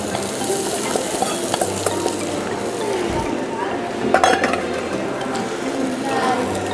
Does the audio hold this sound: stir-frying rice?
yes